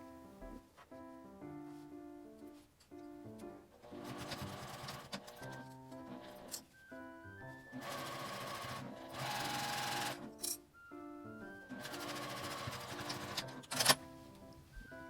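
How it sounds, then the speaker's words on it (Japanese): Sewing machine running in bursts to baste fabric 5 mm from the top edge while making a small shoulder tote, with fast rhythmic needle clatter, short pauses between runs and quiet background music. "上端から5ミリのところを仮縫いします。"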